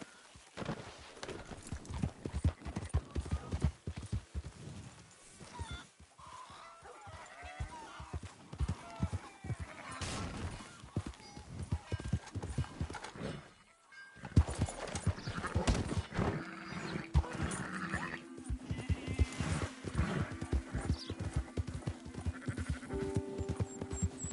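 Horse hooves clip-clop in a PS4 video game, a steady stream of rhythmic hoofbeats with scattered neighs and animal bleats, plus occasional voices in the background.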